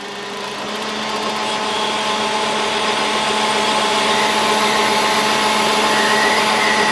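A lathe pilots a hole into bronze with a 4mm drill, held in a collet, making a steady whining machine hum that rises slightly then holds constant, with no talk.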